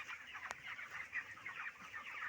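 Farm chickens cluck and murmur steadily while drinking water, a busy flock heard close, with one sharp knock partway through and no talking.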